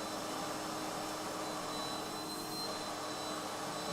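A vacuum cleaner running with a steady, even whine and airy roar, constant and fairly loud from start to finish, with no voices over it.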